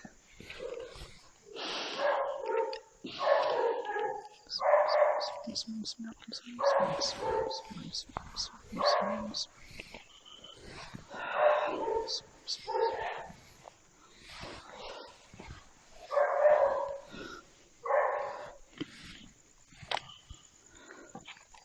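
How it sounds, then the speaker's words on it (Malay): A dog barks repeatedly in irregular bursts, some near and some more distant, inside an old warehouse at night, with faint yips and whimpers between the barks and no clear talk over them. "Tengok anjing."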